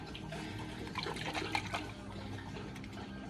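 Water running steadily from a tap, a soft continuous splashing hiss at low level with faint background clatter.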